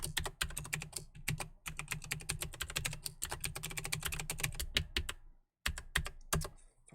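Rapid typing on a computer keyboard, dense irregular clicks running continuously for several seconds with a brief pause near the end, close and alone.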